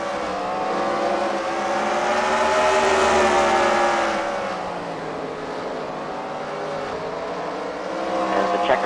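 Race cars roar around the track at a CWRL Fight Night event at the Freedom Factory, with a loud, sustained engine drone that swells and fades as the cars pass and a commentator talks faintly underneath.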